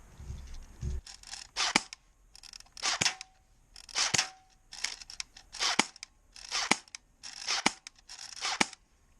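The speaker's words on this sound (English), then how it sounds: "Should have charged it before I shot it" A battery-powered gun with a nearly dead battery is fired about eight times in a row, each shot a sharp snapping burst with a short whir, spaced roughly a second apart and fairly close.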